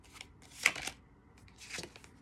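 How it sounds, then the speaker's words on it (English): A deck of tarot cards is shuffled close by, giving two short papery riffling bursts about a second apart, quiet overall with no talk. "So I'm telling you to shuffle it a different way right now."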